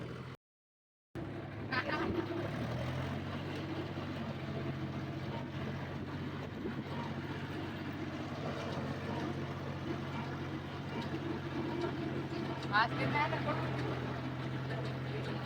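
A tractor engine runs at a steady low drone for the whole stretch after a brief dropout at the start, fairly close, with voices talking over it now and then.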